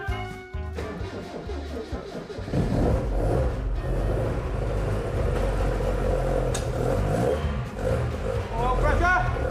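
The restored James Bond Lotus Esprit's engine turns over and runs with a loud, dense low rumble that swells as the throttle is worked, close by, with people talking over it.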